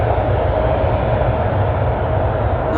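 Airliner thrust reversers roar on landing at Amsterdam Schiphol, a loud, steady broadband rush of engine noise heard close with no letup.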